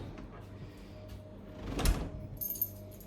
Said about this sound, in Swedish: Jag låser dörren. Jag har en nyckel.